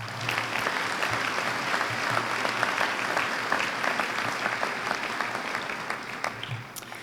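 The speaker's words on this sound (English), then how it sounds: "Please join me in another round of applause to express our appreciation tonight." An audience at the Raleigh Hall of Fame ceremony applauds steadily in a large hall, a dense wash of many hands clapping that stays strong for several seconds before tapering slightly, with a few distinct claps standing out.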